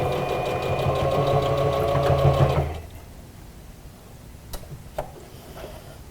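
A sewing machine stitches a homemade fabric mask with a fast, even mechanical chatter for about three seconds, then stops, and a few soft clicks and handling sounds follow.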